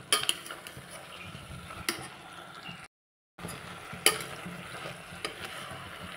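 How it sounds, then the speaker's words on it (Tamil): Baby jackfruit gets stirred into a frying masala for biryani, a soft sizzle under repeated scraping strokes and sharp utensil clanks against the pan, with a short silent gap midway. "இந்த மசாலாவில் போட்டு இந்த பேபி ஜாக் ஃப்ரூட்டை நல்லா மிக்ஸ் பண்ணிகிட்டே இருக்கணும்"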